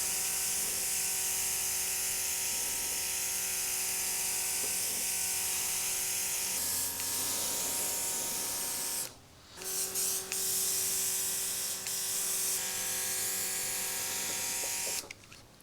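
Battery-powered Iwata airbrush spraying at full trigger, a steady whirring motor hum with airy hiss running continuously, briefly dipping and stuttering midway before resuming, close and fairly loud.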